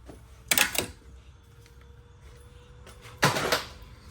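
A small plastic cover comes off under the hood of a 2021 Chevrolet Blazer 3.6 V6, heard as two sharp clicking snaps about three seconds apart, close and fairly loud over a quiet background.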